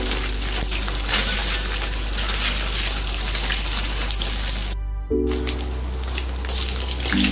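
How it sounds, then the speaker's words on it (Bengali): Fish heads from stale fish fry in a pan of oil with a steady, loud, close sizzle and hiss that runs throughout, briefly dropping out once before resuming. "মাছের মাথাটা ভাজা হয়ে গেছে"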